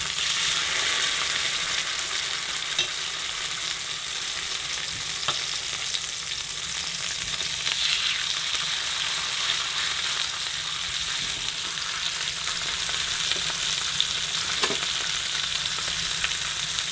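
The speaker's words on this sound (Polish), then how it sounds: "W tym momencie obsmażam go na dość wysokim palniku, gdzieś tak na 8 albo nawet 7." Rabbit meat fries in hot fat over a high burner, a dense steady sizzle with occasional pops and spits, close and continuous for the whole stretch with no talking.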